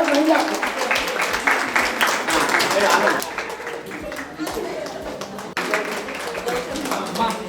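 A crowd claps and applauds at a first-birthday celebration, a dense, lively patter that thins and swells, with people talking over it.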